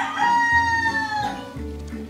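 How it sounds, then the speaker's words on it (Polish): A rooster crows loudly and close, one long drawn-out call with rising and falling harmonics, with low rumbling background noise underneath. "Choć to nie poranek, pięknie powitał nas kogut."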